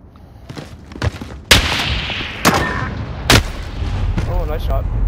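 Call of Duty Modern Warfare sniper rifle shots: a few sharp, loud cracks spaced about a second apart, ringing out over background game noise, with a voice talking faintly.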